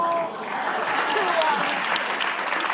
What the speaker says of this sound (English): Notice the faint applause because this audience doesn't buy it